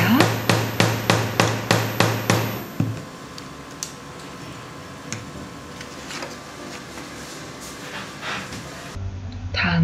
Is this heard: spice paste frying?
no